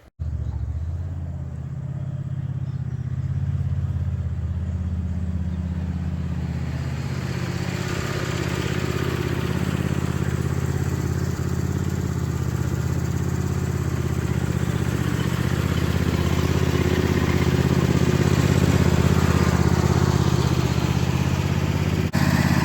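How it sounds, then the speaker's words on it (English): A tractor engine runs steadily with a low, continuous rumble nearby, growing slightly louder over time. "that's the red tractor out, first time out for a few weeks"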